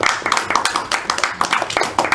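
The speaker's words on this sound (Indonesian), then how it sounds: "Beri tepuk tangan untuk mereka berdua." Audience clapping for two students at a history-education microteaching class, a steady patter of claps from a small group with no talk over it.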